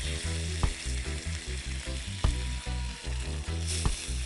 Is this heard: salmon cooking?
yes